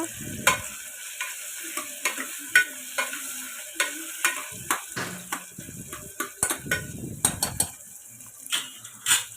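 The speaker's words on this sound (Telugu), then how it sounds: "సో అగొండే టమాటాలు అయితే వేసేసాను మగ్గడానికి నాకు వచ్చి బాగా కలుపుకోవాలి కదా" Tomatoes frying in a pan for tomato dal, stirred with a utensil: a steady close sizzle under repeated scraping and clinking strokes against the pan at an uneven rhythm.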